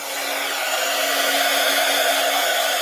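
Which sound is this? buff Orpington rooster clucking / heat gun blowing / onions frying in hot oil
heat gun blowing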